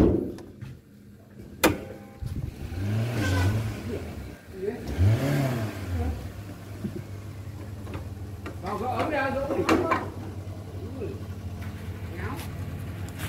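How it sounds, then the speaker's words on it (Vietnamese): A 2006 Toyota Corolla Altis with manual transmission idling nearby, a steady low engine hum with a couple of brief revs, under someone talking. "Về em sẽ cho cô bác anh chị tham khảo qua máy của xe này."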